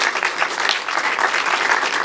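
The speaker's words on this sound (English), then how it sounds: "So give them a round of applause." Audience at a horror film convention Q&A applauds the guests, a dense burst of many hands clapping, loud and continuous with slight surges.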